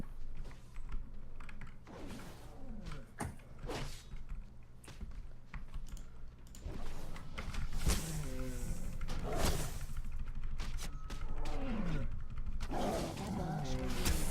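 Lions roar within the World of Warcraft game over continuous keyboard typing and clicking, the growling roars repeating at moderate level while people talk.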